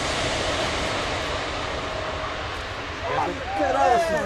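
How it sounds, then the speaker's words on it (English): An Airbus A310 jet making a low pass at an air show gives a steady, loud engine roar that swells near the end, with a voice talking over it. "This Airbus A310 was doing a low pass when it suddenly turned left"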